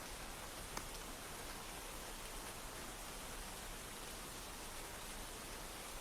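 Rain falls steadily in a continuous, fairly faint broadband hiss with no distinct drops or voices, an even wash of sound throughout.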